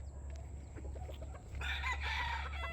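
A rooster crows in the second half, a fairly distant, sustained call over steady background noise, with fainter clucking earlier.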